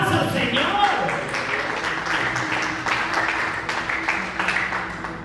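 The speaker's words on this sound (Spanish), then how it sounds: "Denle un aplauso al Señor." Congregation at a church service applauds, a sustained wash of clapping with voices mixed in, fairly steady and moderately loud throughout.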